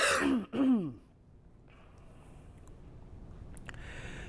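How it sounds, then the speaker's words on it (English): A short throaty cough, then a second, clearing the throat at close range at a beekeepers' event, followed by quiet room noise and faint background sounds. "I'm about to cough."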